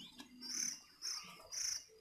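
Hand-fed baby spotted dove chirping in three repeated bursts of thin, high cheeping, fairly close, with short pauses between calls and no talk.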